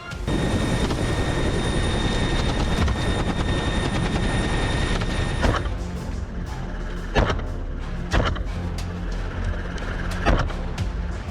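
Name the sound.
helicopter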